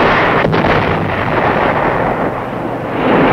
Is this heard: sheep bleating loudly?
no